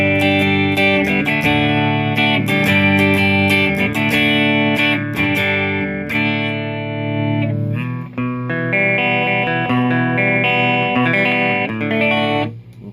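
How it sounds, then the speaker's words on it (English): Electric guitar played through a Fender Hot Rod Deluxe III amp on its clean channel with the bright switch engaged, ringing chords and arpeggiated notes with a crisp top end, played alone and fairly loud for the whole stretch. "I'm going to push this bright switch in that we talked about that's only on the clean channel"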